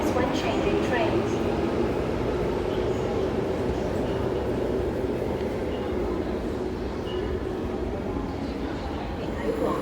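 A train pulls into the platform at Tai Wai Station, a steady rumbling roar of wheels and carriages that holds loud and even throughout, with voices faintly present beneath it.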